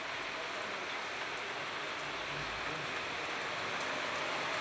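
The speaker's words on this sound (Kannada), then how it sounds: "ಸುಮ್ಮನಿದ್ದು ಮಳೆ ಸ್ಟಾರ್ಟ್ ಆಗ್ಬಿಟ್ಟೈತಿ." Sudden rain falling outdoors, a steady faint wash of drops pattering on surfaces with no voices.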